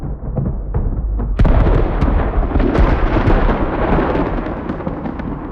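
The Mount Doom explosion rolls on as a loud, dense rumble of debris with sharp thunder-like cracks and bursts from storms inside the dust cloud, booming continuously without speech.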